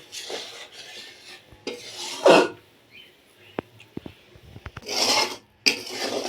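Sugar syrup for khasta gaja stirred in a pan, with repeated scraping and rasping strokes in uneven bursts and a few sharp clinks of the spoon against metal, close by, with no talk.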